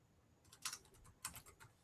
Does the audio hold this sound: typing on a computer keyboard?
yes